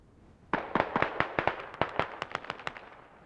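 A creeping artillery barrage strikes in Squad, a run of roughly a dozen sharp, crackling blasts in quick succession, loud and close at first and then slightly thinner, with no talking.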